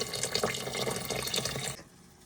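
Water runs steadily from a tap, likely filling a bowl while a dish is cooked, a continuous splashing stream that stops abruptly near the end.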